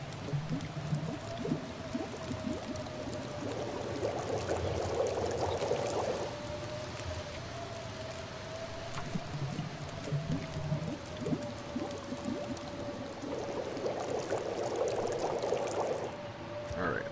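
A pot of water boiling to purify it in The Long Dark during stormy weather, with a steady bubbling churn and a sustained tone, plus waves of louder boiling rising and falling, with no talk.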